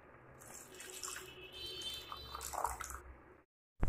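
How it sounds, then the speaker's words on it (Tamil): Tamarind water poured into a pan of simmering fish curry, making a steady splashing, trickling pour that runs for about three seconds before stopping, close and moderately loud. "இதில் புளி தண்ணியை சேர்த்துடலாம் ஃப்ரெண்ட்ஸ்"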